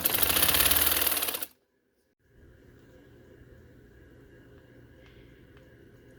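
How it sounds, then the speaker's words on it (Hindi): A sewing machine stitching along a blouse neckline runs in a loud, rapid, close whir for about a second and a half, then stops, leaving only a faint low hum. "और यहाँ मैं इसके ऊपर स्टिचिंग की सिलाई दे रही हूँ।"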